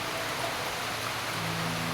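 Heavy rain falling steadily in a dense, even hiss, close and continuous with no voices.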